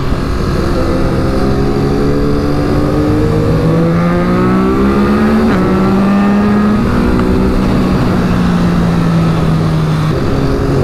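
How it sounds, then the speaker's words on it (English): A 2019 Ducati Monster 821 motorcycle accelerates hard, its engine note climbing steadily through the gears as a loud, continuous roar heard from the rider's position, with wind noise throughout and no talking. "Wow, David has unleashed the power"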